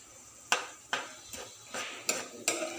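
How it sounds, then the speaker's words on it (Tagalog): Spoon scraping and clinking in a pan while chili with garlic is sautéed in plenty of oil, six sharp metallic knocks at an even, unhurried rhythm over a faint background, close and quiet. "Haluin lang natin mabuti ang ating ginisang chili."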